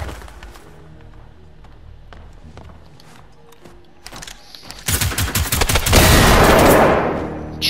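Scattered clicks and shots in the video game Generation Zero build into a loud, sustained burst of rapid automatic gunfire, close and dense, then taper off.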